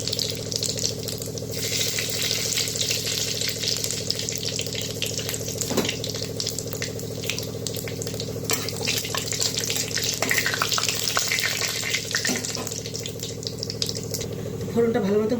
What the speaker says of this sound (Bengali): তেলটা গরম হয়ে গেছে, তো ফোড়ন দিয়ে দেব শুকনো লঙ্কা, তেজপাতা আর 5 ফোড়ন